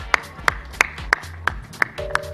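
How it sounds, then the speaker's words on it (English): Sparse, evenly spaced claps from a small audience at an awards event for HR leaders, several distinct hand claps at close range with no talking. "Big round of applause."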